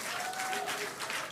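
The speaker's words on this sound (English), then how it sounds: "The crowd here at Mission Control Hawthorne also getting excited, just like us." Crowd at SpaceX Mission Control in Hawthorne cheering and applauding during a Starship landing, a dense, steady wash of distant clapping and voices with a faint tonal whistle running through it.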